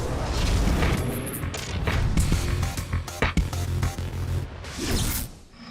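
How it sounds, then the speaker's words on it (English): Fireworks going off inside a bedroom in the House of Hazards video game, a dense run of booms, crackles and sharp bangs in quick succession, loud and close. "Fireworks in a bedroom."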